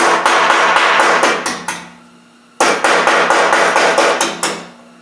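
Hammer blows on a sheet metal rose piece at a forge, a fast run of sharp metallic strikes, a pause, then another steady burst of close, loud ringing hits.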